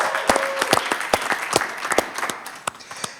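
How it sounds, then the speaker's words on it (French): An audience applauds in a studio show setting, a steady patter of many hands clapping with sharp individual claps standing out, continuous for the whole stretch. "T'en as d'applaudissements à ces gars-là,"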